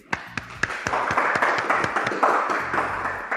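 Audience applause during an interview event, starting with a few sharp individual claps that swell into steady clapping from a small crowd, with a voice briefly audible underneath.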